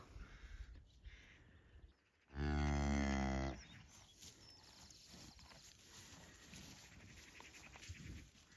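A single loud, close cow moo rises out of a quiet farm background, lasting about a second before fading back to faint ambient sounds.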